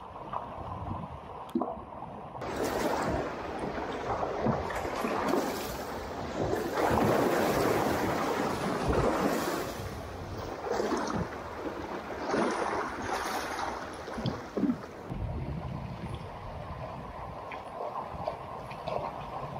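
Canoe paddled through choppy water on a November afternoon, with steady wash of waves against the hull, irregular splashes from paddle strokes, and gusts of wind buffeting the microphone, no one speaking.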